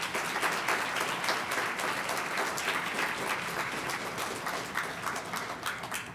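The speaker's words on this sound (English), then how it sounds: "let's have a round of applause for them as well" At a 2021 School of Engineering commencement, the audience applauds graduates' family members with a broad, even wash of clapping from a large crowd that holds steady throughout.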